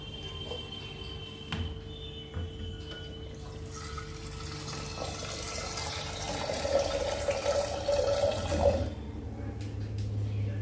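Water runs and splashes steadily into a pot of washed split peas (matar dal) set up for boiling, swelling louder in the middle and then easing off, with no talking.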